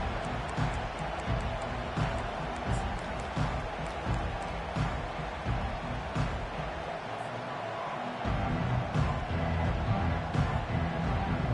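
A big football stadium crowd roars and murmurs steadily at a Longhorns game, a broad continuous swell of many voices with a rise toward the end and no clear single speaker.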